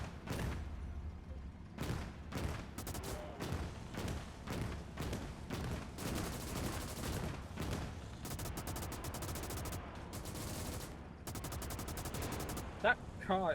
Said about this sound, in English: my flak cannon is just hopefully doing something